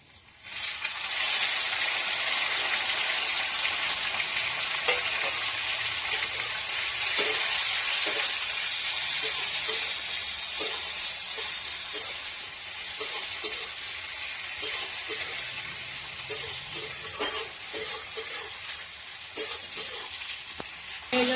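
Vegetables and tomatoes fry in a hot pan for a Bengali egg paneer dish, a steady loud sizzle with occasional stirring scrapes throughout, no voices.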